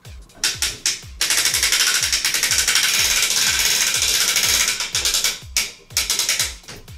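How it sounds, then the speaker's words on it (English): A crank-operated lighting stand is cranked upward, producing rapid, loud ratcheting clicks close by. The clicks run in quick bursts and then blur into a continuous rattling stretch before slowing into separate clicks again. "I'm gonna crank this stand up. This is a crank stand, makes it a little easier."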